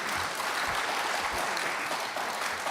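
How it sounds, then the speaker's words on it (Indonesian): An audience of men and women at a parliamentary working meeting claps in a steady, dense round of applause that holds at an even level throughout. "tepuk tanganlah Bapak dan Ibu dulu"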